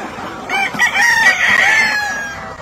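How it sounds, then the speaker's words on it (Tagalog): Native Filipino manok Pinoy breeder chickens on a farm, a rooster giving a loud, close, drawn-out crow amid clucking and faint background noise. "Ito yung next na breeders natin sa manok Pinoy."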